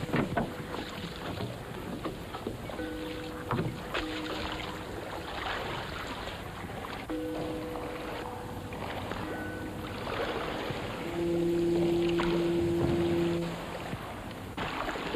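A rowboat pushing off and rowing through fog on the water, with soft wooden knocks, creaks and oar splashes under a steady breezy hiss, plus a few low tonal hums and a louder stretch near the end; no talking.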